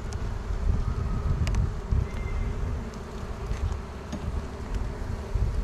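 Dense, continuous buzz of honey bees around an open beehive being worked by a beekeeper, close and steady with light wind and a few rustles, no talking.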